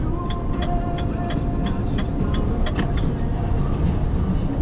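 A vehicle driving out to the base to swap containers, a loud steady road rumble with faint high whines and small rattles running throughout, no talk.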